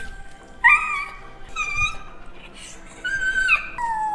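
Dog whimpering indoors: high, thin whining cries come in several drawn-out bursts with pauses between, fairly close and clear.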